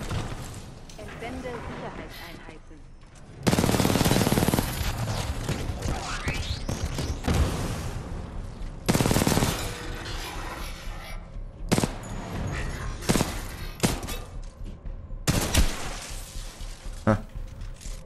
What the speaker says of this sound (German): Er hat mich einmal angeschossen, ich habe ihn einmal angeschossen.